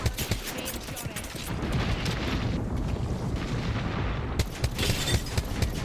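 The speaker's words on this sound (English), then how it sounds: "Being shot at." Dense, continuous video game gunfire in a ranked shooter match, loud rapid shots and booms layered into a sustained barrage with brief quieter gaps, and faint talk.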